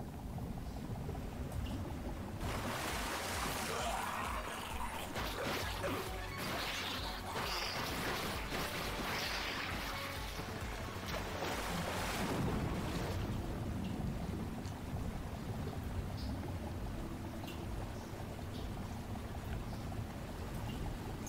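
Water rises in a flooding level of the Ratchet and Clank video game, a continuous rushing, surging wash that swells in the middle and then eases back to a steady churn.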